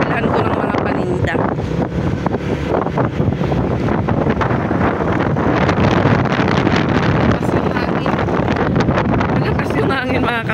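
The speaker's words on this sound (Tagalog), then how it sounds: "Malakas yung hangin mga kapiks." Strong wind from Typhoon Leon on a downtown street, a loud constant roar buffeting the microphone, with a person talking over it.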